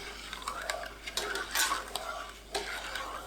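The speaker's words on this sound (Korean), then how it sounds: "냄비에 진간장 300ml, 물 500ml, 식초 250ml, 사탕수수 원당 200ml 넣고 섞어주세요" Soy sauce, water, vinegar and cane sugar being stirred in a pot, with soft irregular scrapes and knocks of a utensil against the pot, quiet and close, no talking.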